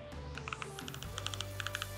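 Button clicks from an EVPAD 3S Android TV box remote control, a quick run of light, crisp plastic taps in uneven bursts, close and fairly soft, with no talking.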